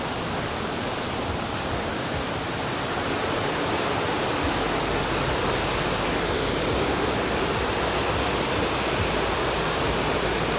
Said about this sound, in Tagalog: dinig na dinig ko na yung agos ng tubig